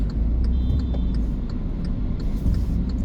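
Congested car traffic on the SLEX expressway in the Philippines gives a steady low rumble of idling and slowly moving vehicles, close and fairly loud, with faint higher engine whine and no talk.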